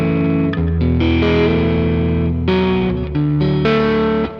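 An electric guitar runs through a fuzz pedal into an amp, loud saturated sustained chords shifting every second or so, thick and distorted with a layered, chorus-like shimmer and no talking.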